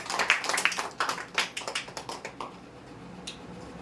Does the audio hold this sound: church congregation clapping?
yes